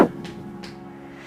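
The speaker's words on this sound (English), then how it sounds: "That's the sound of the right hip working." A single dull pop or crack of a right hip joint during yoga sounds right at the start, followed by quiet room tone with faint shuffling.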